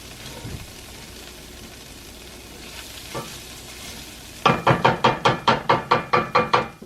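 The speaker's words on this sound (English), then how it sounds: "I cook it for about a minute or 2 so that the flour taste gets cooked off" A flour paste for chicken paprikash cooks in a pan with a low sizzle at first, then a run of about a dozen sharp, evenly spaced knocks and scrapes from vigorous stirring, close and loud.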